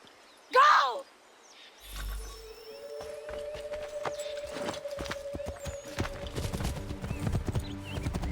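A horse whinnies loudly, then hooves clip-clop at a brisk pace in an Assassin's Creed scene set in the American Revolution, with distant music and ambience beneath and brief voices.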